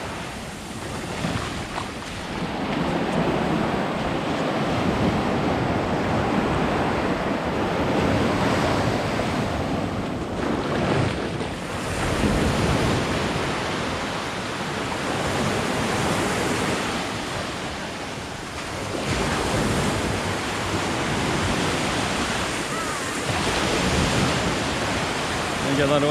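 Ocean surf washing onto Chaweng Beach on Koh Samui, Thailand: a continuous loud roar of breaking waves with swelling surges and some wind buffeting the microphone.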